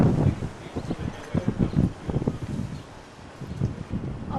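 Wind blowing outdoors at a peaceful spot in Israel: gusty buffeting rumbles against the microphone rising and falling in uneven pulses, fairly loud and close, with no voices.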